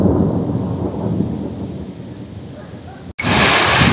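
Rain keeps falling during a thunderstorm, a loud, steady broadband hiss with a low rumbling undertone that drops out briefly near the end and then resumes even stronger.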